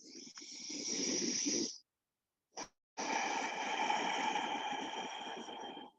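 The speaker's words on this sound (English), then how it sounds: "One more deep breath here." A deep yogic breath taken close to the mic: a long airy inhale, a brief pause with a tiny catch, then a steady, sustained hissing exhale, all alone and fairly soft.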